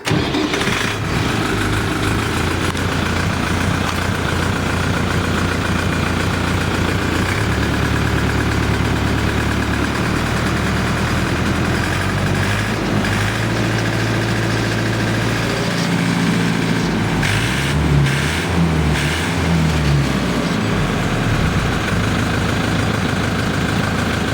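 A DMTZ 544X tractor, a 50-horsepower model, runs at a steady idle right after starting. The loud diesel chug is close and continuous throughout, with no talking.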